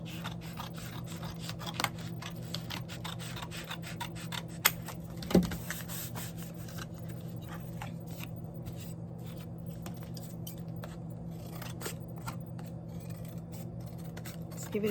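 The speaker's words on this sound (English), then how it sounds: "Let's give it a trim." Quiet, repeated snips of scissors cutting material, irregular crisp clicks over a low steady hum, with one louder snap midway.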